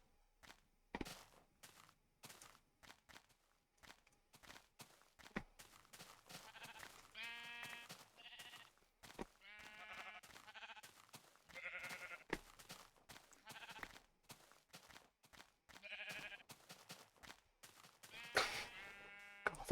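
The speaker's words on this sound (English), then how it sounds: "Sheep, I'm coming for you." Sheep in Minecraft let out repeated short, bright bleats, several in quick succession over a steady stream of clicks and footsteps, close and fairly loud with no talking.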